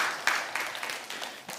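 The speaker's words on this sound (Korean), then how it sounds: "우리 성가대에서 박수 한번 쳐주세요" A church congregation applauds during a sermon, a short burst of soft, scattered clapping from a large hall, faint and somewhat distant.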